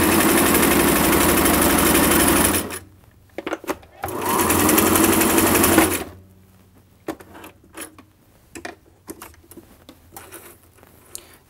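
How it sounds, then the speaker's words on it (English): A Singer Inspiration sewing machine runs fast through fabric in two bursts of steady, loud needle chatter, separated and followed by clicks and handling noises, with talk between the runs. "now we want to sew to make sure that we made the correct adjustments"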